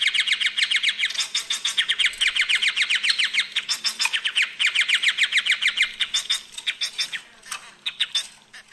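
Dense, rapid chirping and squawking from several small society finches, continuous and fairly close, with a faint low hum beneath.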